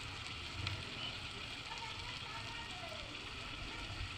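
Pointed gourd frying in oil with turmeric and salt, giving a faint, steady, continuous sizzle with no pauses.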